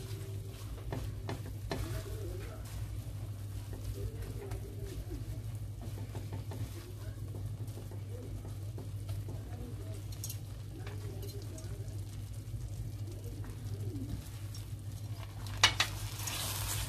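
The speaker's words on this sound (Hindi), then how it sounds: "इसको मुसलसल आपने चलाते जाना है ताकि नीचे से ना लगे।" Apple barfi mixture is stirred continuously in a pan on the stove, soft scraping and gentle sizzling over a low steady background, fairly faint.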